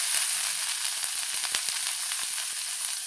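Cut carrot, beans, onion and garlic go into hot oil and sizzle loudly and steadily at close range, with faint ticks and crackles scattered through. No talking.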